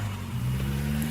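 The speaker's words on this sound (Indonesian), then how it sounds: "kunyalakan mobilnya." A car engine starts up in a dark hospital basement parking garage, a short steady low hum as the motor settles, with a brief brighter burst right at the end.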